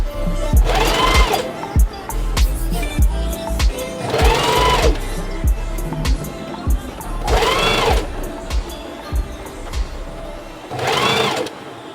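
Sewing machine stitching fold-over elastic onto a lingerie waistband: four loud bursts of rapid mechanical whirring a few seconds apart, with soft clicks and handling noises between them.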